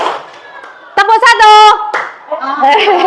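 A group plays a rhythmic clapping game, with short bursts of sharp, close hand claps answering a leader's chanted voice in a brief call-and-response.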